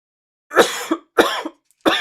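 A man with allergies coughs three times at close range, each sharp dry burst trailing into a brief throat rasp, with short silent gaps between them.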